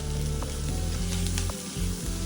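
Onions stir-fry over a high flame for chilli chicken, crackling in a continuous close sizzle with a few light stirring knocks and no voices.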